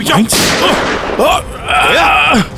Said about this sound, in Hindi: गोली चला रहा